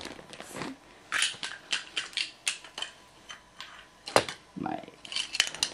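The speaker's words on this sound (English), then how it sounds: "I've got my measuring spoons here" Metal measuring spoons clink and jangle in a series of bright, irregular taps up close, with a few quiet voiced sounds between the clinks.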